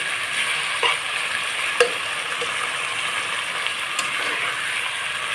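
Boiled banana blossom fries in a pan with a steady, even sizzle, joined by a few soft clicks and scrapes as it is stirred and mixed, with no voices.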